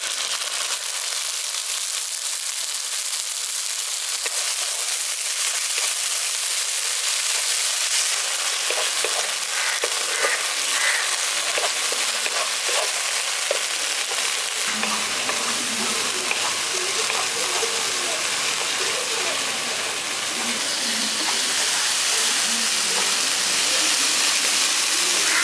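Onion, ginger-garlic paste and tomato-green chilli paste frying in oil for soybean korma, a loud, steady sizzle and hiss with occasional stirring scrapes throughout, swelling brighter partway through.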